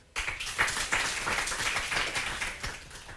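Studio audience applauding a contestant on the French quiz show Questions pour un champion, a steady wash of clapping that sets in sharply and holds for about three seconds at moderate level.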